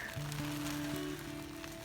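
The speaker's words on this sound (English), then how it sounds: "a most enormous rain shower" Heavy rain pattering on a taut tent surface nearby during a wild camp on Dartmoor, a continuous soft hiss with a low hum running underneath.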